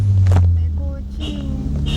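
A car passes on the road during a road trip, its low rumble swelling early and then fading beneath people chatting nearby.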